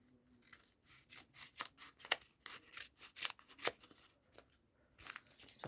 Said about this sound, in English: I'm just going to cut it just under that lemon.